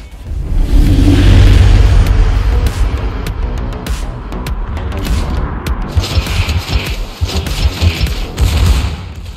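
Secondary guns of the German battlecruiser Prinz Rupprecht firing in World of Warships, heavy booming rumble followed by a rapid run of sharp cracks and thuds, loud and close, no talking.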